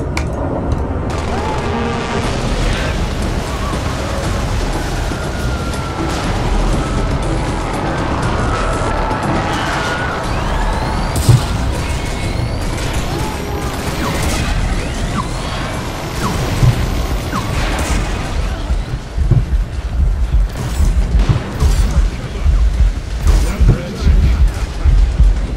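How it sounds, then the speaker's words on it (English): Explosions in a video game boom repeatedly through dense, continuous mechanical clatter and rumble, with sharper bursts crowding together toward the end. "The explosions have no effect on anyone."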